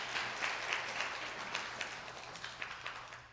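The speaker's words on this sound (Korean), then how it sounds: "박수로 한번." A church congregation gives a round of applause during an evening revival meeting, a steady wash of many hands clapping at moderate, fairly distant volume that carries evenly to the end.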